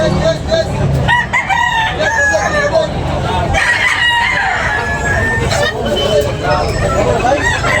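Several roosters crow repeatedly at a gamefowl sale in Tabunok, Talisay, with loud overlapping calls rising above a busy hubbub of crowd chatter and a seller's voice.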